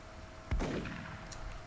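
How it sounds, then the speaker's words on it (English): A single sniper shotgun shot in XCOM: Enemy Within, one sharp booming report with a short decaying tail, fairly faint and heard alone against quiet game ambience. "try and get the kill with, like, a sniper shotgun shot"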